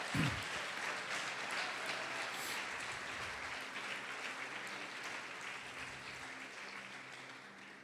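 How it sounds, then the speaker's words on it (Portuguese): Church congregation applauding during a Portuguese-language sermon, a sustained wash of many hands clapping that stays steady for several seconds, soft and somewhat distant, with a low hum underneath. "Pode aplaudir o Senhor Jesus e glorificar."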